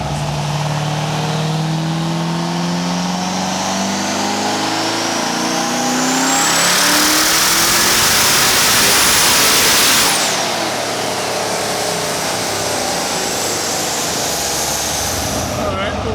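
Twin-turbo Corvette Z06 making 1,200 wheel horsepower, loud and close, its engine climbing in a long rev that peaks mid-way, then settling back to a steady roar.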